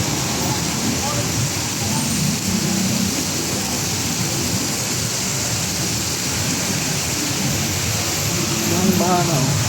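Heavy rain during flooding, a steady loud wash of broadband noise that holds constant throughout, with faint voices in the background.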